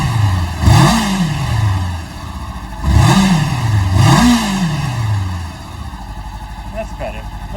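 A Honda CBR500R motorcycle on its stock exhaust revs up three times in close succession, each sharp rise in engine pitch falling back to a steady idle, close and loud, with no talk.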